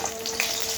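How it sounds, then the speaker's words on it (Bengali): Koi fish sizzling in hot oil, a short burst of steady close frying hiss with faint crackles, no voices. "সুন্দর করে মাছগুলো ভেজে নেব"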